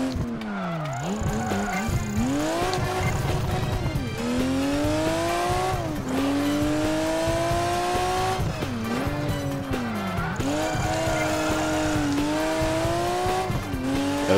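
Car drifting in Project Gotham Racing 4, with a loud, sustained engine roaring and rising through repeated gear swells while tires squeal through the slides, steady and continuous with no talk.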